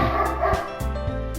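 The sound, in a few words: the speaker's dog barking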